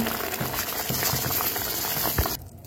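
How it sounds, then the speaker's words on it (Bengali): Pineapple chutney simmering in water in a pot, a dense bubbling boil with soft pops, close and steady until it cuts off near the end. "এখানে জল দিয়ে দেবো, জল দিয়ে দিয়েছি আমি, এটা একটু সেদ্ধ হোক"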